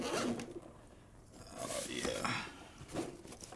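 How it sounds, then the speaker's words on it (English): A zipper on a Godox lighting kit case being opened, several close rasping pulls in quick succession with a quiet voice in between. "Got a zipper."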